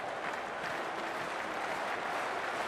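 Crowd at a cricket match in the Cricket 24 video game, steady applause and cheering from a large stadium audience, dense and continuous at a moderate level.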